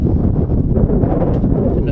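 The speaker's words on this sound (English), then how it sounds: "I know it's getting a little windy." Wind blowing outdoors ahead of an incoming storm, buffeting the microphone as a continuous low rumble that runs right through the moment.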